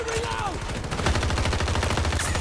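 M16A3 assault rifle firing in the video game Battlefield 2042, a dense run of rapid automatic shots with a steady rhythm, loud and close, accompanied by in-game combat noise.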